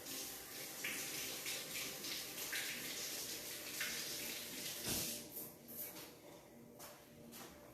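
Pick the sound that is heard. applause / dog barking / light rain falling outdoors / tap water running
tap water running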